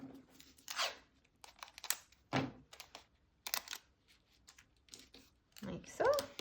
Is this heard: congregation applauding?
no